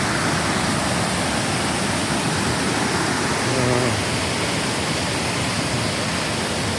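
A waterfall swollen by heavy rain roars with a constant, dense rush of water; a brief voice surfaces midway.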